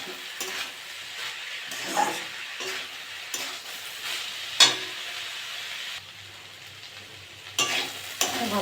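Teasel gourd (kakrol) and prawns frying in a pan, a soft steady sizzle with intermittent stirring scrapes and clatters throughout, fairly quiet and close, no talking.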